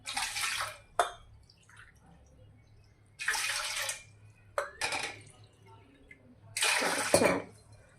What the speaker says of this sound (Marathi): 1 वाटी रव्यासाठी इथे मी 4 वाटी पाणी घेणार आहे